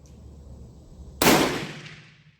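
A single loud rifle shot from a Berthier model 1916 firing powder-coated cast bullets cracks outdoors after a quiet moment, its sharp blast decaying over about a second.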